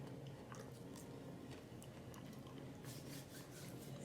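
Crunchy homemade fries being bitten and chewed close up, a steady crisp crackle of mastication running through the whole stretch with no talk.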